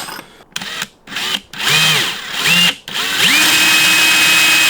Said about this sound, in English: I'm gonna use a little bit smaller drill in the beginning, and then I'm gonna go ahead with the real drill.